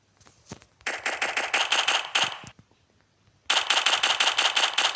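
Rapid automatic-sounding gunfire from a pistol in a horror-style video game, two long close bursts of rattling shots separated by a quiet gap, loud and without talk.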